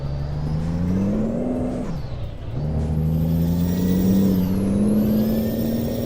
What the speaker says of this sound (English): I don't like the sound of this engine at all.